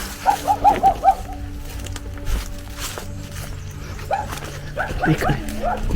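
A dog barks in a quick burst of several yaps, then barks again a few seconds later amid outdoor noise and faint birds.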